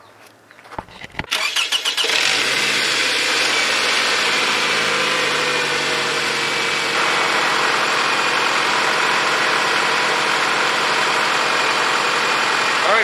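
Engine of a 2002-2009 Toyota Camry cranks briefly, then catches and settles into a loud, steady idle after an upstream oxygen sensor replacement, running alone without talk.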